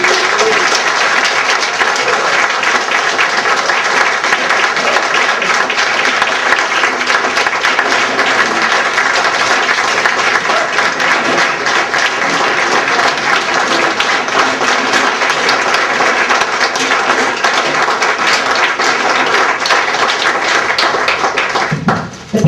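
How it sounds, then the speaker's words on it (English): A large audience applauds steadily for soldiers being honored at a community Adopt A Soldier coining ceremony, a dense, loud, sustained roar of clapping that runs unbroken for over twenty seconds before cutting off abruptly. "Let's give them a round of applause, please."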